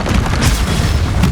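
A brief, loud Confringo blasting spell from Hogwarts Legacy erupts close by as one dense, sustained booming roar with crackling texture.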